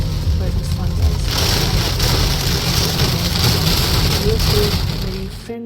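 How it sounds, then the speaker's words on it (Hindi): Heavy rain pours steadily in the UK, a dense continuous hiss and patter on surfaces with a low rumble underneath, loud and unbroken before cutting off abruptly at the end. "बहुत ही तेज़ बारिश हुई थी"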